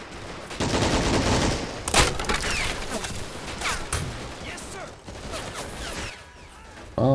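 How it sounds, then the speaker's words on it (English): Machine gun fire from the World War II strategy game Men of War: Assault Squad rattles in rapid bursts among scattered gunshots, loud and close, with a brief lull before the shooting resumes. "Machine gun."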